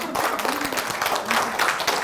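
An indoor forum audience claps together for about two seconds, a dense, close patter of many hands with some speech mixed in.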